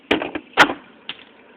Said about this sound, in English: that was the sound of the IAC valve falling